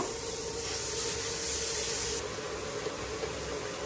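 Potatoes sizzling in hot oil in a pan, a steady broadband frying hiss close up that swells briefly and then settles, with no talking.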